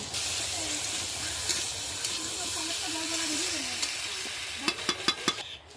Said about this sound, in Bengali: কিছু সময় আলুটা ভেজে নেব।